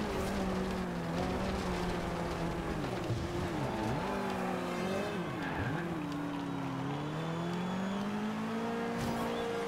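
Tires skid and squeal in the racing video game Forza Horizon 2 as a car slides through a corner, a continuous wavering screech over steady engine drone, loud and close with no talk.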